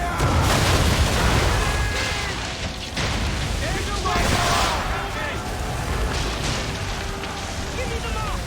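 Heavy ship cannons fire in an Assassin's Creed III naval scene, loud booming blasts rolling over constant sea and battle noise, with shouted voices between the shots.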